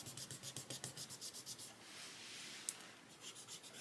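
Soft pastel dragged across paper in quick, even back-and-forth strokes, a steady rhythmic scratchy rubbing that pauses briefly and then resumes, close and quiet.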